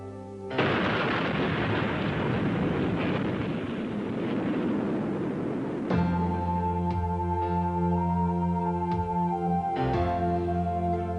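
An atomic weapon detonation erupts into a loud, sustained roaring blast with a dense rumble lasting several seconds, then gives way to a steady tonal drone.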